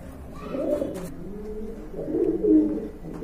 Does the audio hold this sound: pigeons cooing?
yes